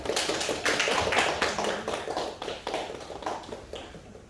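A church worship audience welcomes a woman preacher with applause, a dense burst of clapping that rises quickly, holds for a few seconds, then tapers toward the end.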